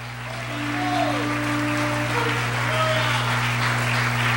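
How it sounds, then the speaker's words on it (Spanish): A church congregation applauds during a Spanish-language worship service, a steady wash of clapping building and holding over a loud sustained hum, with faint whistle-like tones drifting above. "Dale un aplauso al Señor Jesucristo."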